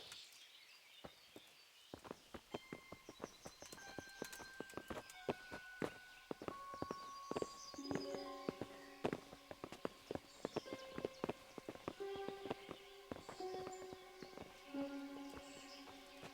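Horse hooves clop in the medieval video game Kingdom Come: Deliverance, a quiet, rhythmic series of sharp hoof strikes mixed with footsteps, accompanied by soft tonal music notes over about sixteen seconds.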